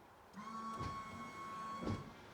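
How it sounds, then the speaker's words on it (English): A windscreen washer pump motor on a 2008-2014 Honda Fit/Jazz runs dry with a steady, thin mechanical whine and hum, close and continuous for a couple of seconds, with two brief clunks along the way. "So you heard the motor running, but obviously I don't have any liquid coming out."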